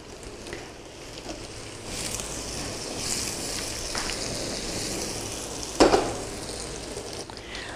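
Boiled cumin potatoes sizzle steadily in a hot pan as they are tossed, with a sharp scrape or clatter near the end; no one speaks.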